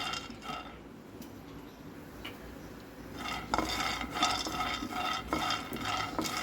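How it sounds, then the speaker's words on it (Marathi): Peanuts being dry-roasted in a pan for a Vidarbha-style recipe, giving a continuous scraping, rustling rattle of nuts stirred against the metal that grows busier and louder halfway through, with sharp little scrapes at intervals. "आता याच्यात टाकूया शेंगदाणे, जेवढे आपण तीळ घेतले होते तेवढेच शेंगदाणे घ्या, भाजून घ्या।"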